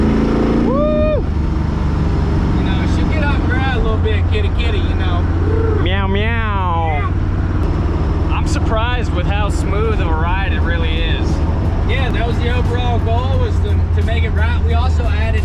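An old small-block V8 in a street-driven drag car rumbles loudly and continuously, with a deep steady idle and rev changes, while someone talks over it.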